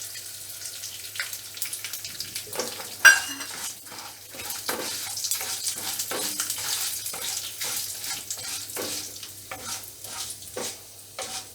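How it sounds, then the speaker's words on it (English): Curry leaves, red chili, asafoetida and mustard seeds sizzle and crackle in hot oil for a banana stem stir fry, with a steady frying hiss, scattered sharp pops and a stirring clatter, close and without talk. "the rest of the ingredients, which is the curry leaves, the red chili. I am going to add the estopida and the mustard seeds."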